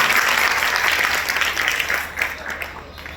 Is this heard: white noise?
no